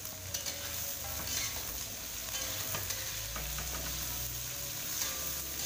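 Kikil frying in a pan with spices such as bay leaf, lemongrass, galangal and ginger, sizzling steadily while being stirred, with close scraping and clacking from the stirring utensil over the continuous crackle.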